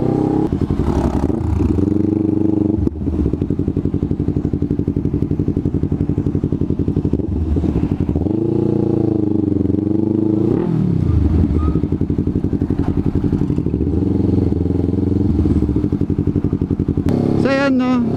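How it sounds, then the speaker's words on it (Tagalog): A Yamaha MT03 motorcycle's exhaust drones at close range during a service day in Bataan, with repeated revs swelling and falling throughout and a brief clatter near the end, under occasional talk. "medyo okay na yung tunog ng tambucho natin."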